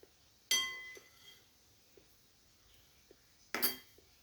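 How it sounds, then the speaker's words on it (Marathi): A metal spoon knocks sharply against a pan while stuffed brinjal curry in gravy is served onto a plate: two bright clanks about three seconds apart, with a few soft taps in between over a quiet background. "प्लेटमध्ये काढून घेऊ।"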